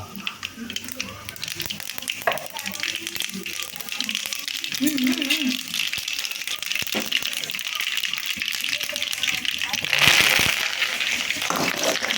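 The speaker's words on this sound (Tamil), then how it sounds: "இப்போ கடுகு கொஞ்சம் போடுறோம்" Mustard seeds crackle and sizzle in hot oil in a pan while tomato gravy is being made, a steady close frying hiss with a sharper burst of spattering near the end, under a speaking voice.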